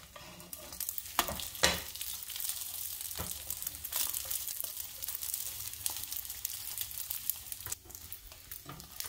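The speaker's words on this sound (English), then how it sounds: "I guess as this is cooking, it's starting to act like normal scrambled eggs again." Scrambled eggs, made from eggs that were frozen in an ice cube tray, sizzle and fry in a pan while a utensil scrapes and stirs in irregular strokes, close up and without talk.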